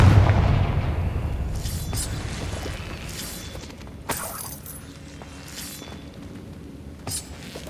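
Low booming blast from the Confringo explosion spell in the video game Hogwarts Legacy opens loud and rumbling, then fades into quieter game ambience with a couple of brief sharp cracks later on.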